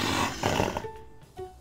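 A jaguar gives a loud, rough roar up close in one breathy burst, fading into a few short sustained tones that ring out alone afterward.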